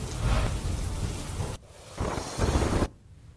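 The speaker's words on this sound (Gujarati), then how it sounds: "પોરબંદરમાં અનરાધાર વરસાદ જોવા મળી રહ્યો છે" Heavy monsoon rain pours down in Porbandar, Gujarat, a loud, dense roar with wind buffeting the microphone. The downpour drops out and returns in abrupt chunks.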